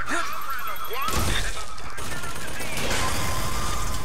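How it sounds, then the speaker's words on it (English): A turret in the video game BSI fires a sharp burst of gunfire with crashing impacts, loud and close, followed by rattling noisy clatter over a background hum. "That's a turret."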